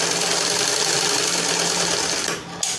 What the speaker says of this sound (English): so I'll turn it this side and sew.